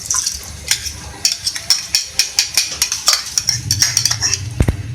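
Rice going into already-boiled milk in a pot for mango kheer, heard as a close, rhythmic run of spoon scrapes and metallic clinks against the pot, one every half second or so, with no talking.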